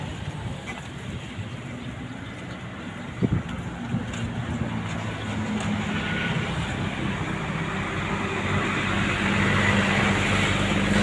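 A motorcycle, one of an electric and a petrol bike being compared by an online ride-hailing rider, revved on the spot for a throttle test. Its steady engine drone swells gradually louder toward the end, with a brief knock near the start.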